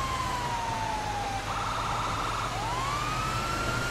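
In GTA 5, a fire truck siren wails at close range, with a long falling tone, a brief rapid yelp, then the sweep climbing again over a low engine rumble.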